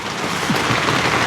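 Heavy rain pours steadily during a storm around a small rural hut, a dense, continuous hiss with no breaks or distinct drops standing out.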